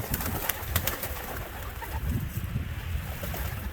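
Pigeons in a loft aviary, soft low cooing and bird sounds with some light fluttering and shuffling, fairly close with no talk.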